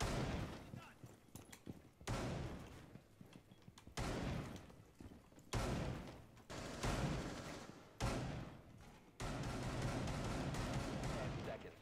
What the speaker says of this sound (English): You are just unloading on that shotgun, aren't you?